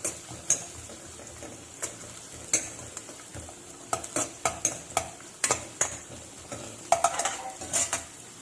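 Cashews and raisins frying in a pan for semiya payasam, with a soft steady sizzle broken by repeated sharp scrapes and clinks of a spoon stirring against the metal pan, close and fairly quiet.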